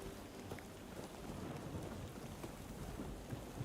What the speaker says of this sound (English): Miserable rain and gloom.